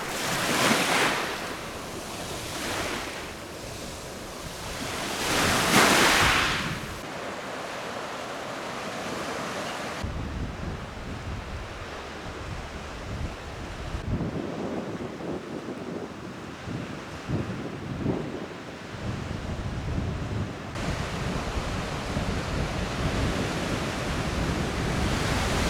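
Waves rolling onto the beach at Cala Gonone, Sardinia, with surges of surf washing in and out and gusty wind buffeting the microphone, loud and continuous throughout.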